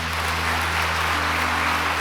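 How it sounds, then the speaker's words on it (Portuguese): Steady applause from a congregation at a church worship gathering, a dense wash of clapping heard at a moderate distance over a low background hum. "Dê um aplauso a Ele."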